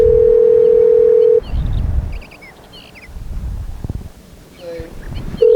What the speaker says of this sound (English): we're calling Bird